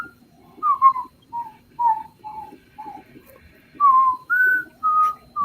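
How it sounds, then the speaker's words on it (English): Someone whistles a short, wavering tune of separate rising and falling notes, fairly close, with brief gaps between phrases and a faint hum of background chatter underneath. "at least you can whistle"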